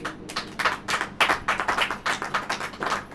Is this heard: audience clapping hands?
yes